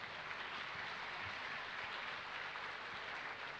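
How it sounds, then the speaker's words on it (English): A quiz-talk audience at Catholic Junior College applauds the sponsors, a dense, steady wash of many hands clapping at full loudness throughout, with no talking over it. "Let's give them both a big round of applause"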